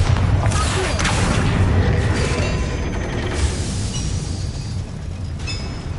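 A Bombarda blasting spell goes off in Hogwarts Legacy, a heavy booming crash with rumbling debris that carries on as a dense, continuous roar across the clip.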